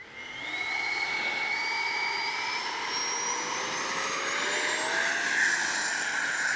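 A Freewing 80mm MiG-21 RC jet with a new power system spools up and takes off, its electric ducted fan giving a loud, steady high-pitched whine that rises in pitch as it climbs away.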